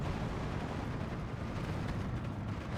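Mortar fire in Steel Division 2, a continuous low rumbling barrage of battlefield explosions, dense and boomy with no single distinct blast standing out.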